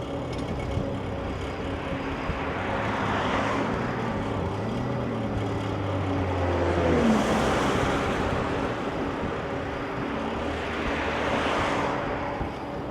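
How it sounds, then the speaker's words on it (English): Road traffic in chilly weather heard from an electric trike ride, a continuous rumble as cars and trucks swell past in broad whooshes, with one louder vehicle passing close in the middle. "Lots of traffic, people getting off work, I do believe."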